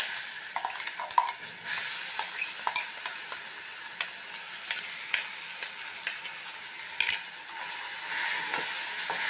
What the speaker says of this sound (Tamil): இப்போ வந்து நம்ம அந்த அரைச்சி வச்சதை இந்த விழுதை சேர்த்து வதக்கிட்டு போகிறோம்.